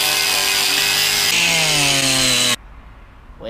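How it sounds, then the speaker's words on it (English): An angle grinder cuts into an Opel Corsa car bumper to fit a 54-inch LED bar, giving a loud, steady, high whine that shifts pitch once and then stops abruptly. "cut with the angle grinder so we can fit this inside"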